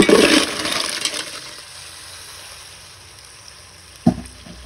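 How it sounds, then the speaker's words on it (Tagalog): Fresh mussels tipped into a pot of tinola with garlic, onion and ginger: a brief watery splash and clatter at the start, then a quiet simmer and a single knock of the pot near the end. "At ilagay na po natin ang ating tahong."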